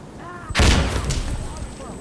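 A frag grenade blast in the game Insurgency Sandstorm: one sudden loud broadband boom that decays over about a second and a half, with faint voices around it.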